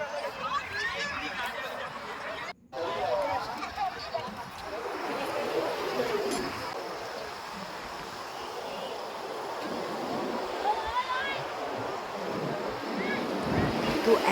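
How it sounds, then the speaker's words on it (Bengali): Steady sea surf and gusting wind on Digha beach fill the scene, with wind buffeting the microphone and people's voices faintly in the background. "তো এত সুন্দর হাওয়া চলছিল সমুদ্রের ধারে, জাস্ট দারুণ লাগছিল।"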